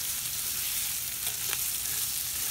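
Onions frying with bacon in a pan while being stirred, a steady close sizzle with a couple of brief scraping accents and no talking.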